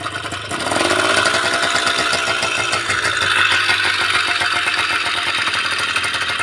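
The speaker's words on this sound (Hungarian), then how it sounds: "a motor kipucolt karburátorral pöcre indult, első gombnyomásra" An Aprilia RS50, a small two-stroke motorcycle with a freshly cleaned carburettor, starts on the first button press and settles into a loud, rattly, buzzing idle, close by and steady, with no voices.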